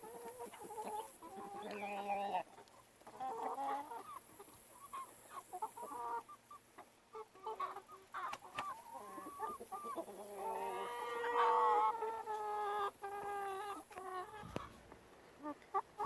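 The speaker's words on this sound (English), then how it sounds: "this is our new chickens meeting our old chickens out in the yard." Several chickens, including a gold or black laced Wyandotte hen, cluck and call in a farm yard as new birds meet the old flock, with irregular overlapping bursts close by and goats kept nearby.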